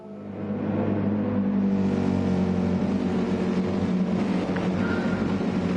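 Race car engines roar to life at the start of a league race, a loud sustained drone that builds quickly from near silence and keeps revving close by, with no talk over it.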